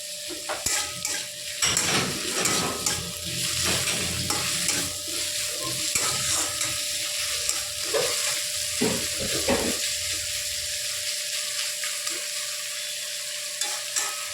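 Chopped onion and tomato frying in oil for a mustard-poppy seed small fish curry, stirred with repeated scraping strokes over a steady close sizzle that quiets slightly toward the end.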